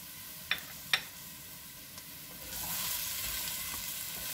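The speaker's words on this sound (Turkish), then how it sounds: "Ve soğanlarla beraber 1-2 dakika kadar da sucuğu kavuruyorum." Thick-sliced sucuk sausage frying with sautéed onions in a clay pot: two sharp clinks of a utensil early on, then a steady close sizzle that grows louder and continues alone.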